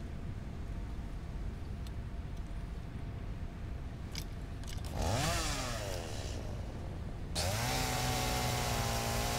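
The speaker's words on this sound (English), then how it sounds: "I just want to make my chainsaw" Chainsaw in the video game Satisfactory, quiet at first, then revving up sharply with a loud buzzing motor whine that drops, then revs again and holds steady to the end.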